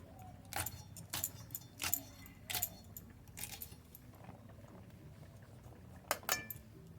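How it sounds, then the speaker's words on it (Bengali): Flat beans are cut into small pieces with a knife, giving a series of crisp, irregular chops close by over a faint kitchen background hiss. "তা শিম যতগুলো লাগে এখান থেকে একইভাবে কেটে নেব"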